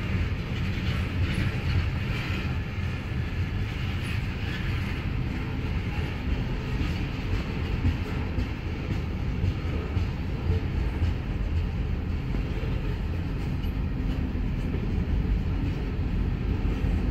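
A Norfolk Southern freight train rolls past a multiple-track grade crossing in Hamilton, Ohio, with a continuous loud rumble and steady wheel clatter of passing cars throughout.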